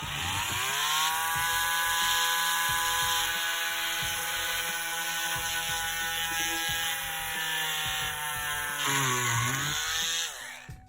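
A small high-pitched rotary tool with a 0.9 bit whines steadily up close, drilling a hole in an action figure's foot, its pitch dipping and wobbling briefly near the end before it spins down.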